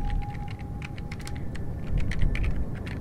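Fingers type a slash command on a computer keyboard in a game admin panel, a close, quick irregular patter of key clicks running steadily throughout.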